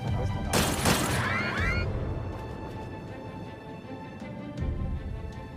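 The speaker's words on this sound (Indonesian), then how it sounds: "Namun karena hal itulah ia kemudian ditembak oleh para pemberontak." Gunshots from rebels in an action film about an anti-terror squad: a loud burst of rapid gunfire with sharp cracks and ringing debris, fading into a tense, low rumbling background with a thud near the end.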